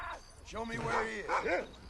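Dog in the video game Red Dead Redemption gives a few yipping, whimpering barks in quick bursts, moderately close, with a person talking around them.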